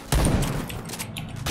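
Gunfire from a KRISS CRB in the shooter game Point Blank, a sudden loud burst of rapid shots starting near the top and continuing as a dense, sustained rattle for over a second.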